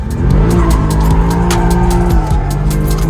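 A BMW 1-Series drift car at Adams Motorsports Park, with the engine roaring loud and close as the tires squeal through a sustained slide, the pitch wavering slightly without any talk.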